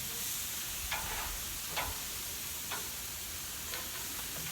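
Big chunks of steak tips sizzle on a hot grill just after being flipped, a steady close hiss broken by a few sharp pops and crackles, with no talking.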